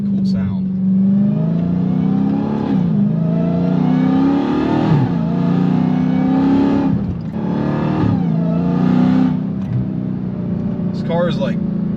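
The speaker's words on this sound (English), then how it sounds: "it really accentuates those ignition cuts on the shifts, which is a really, really cool sound." A loud Dodge Hellcat V8 with Valvetronic Designs universal mufflers roaring through hard acceleration, with sharp crackling ignition cuts at each gear shift as the revs climb and drop.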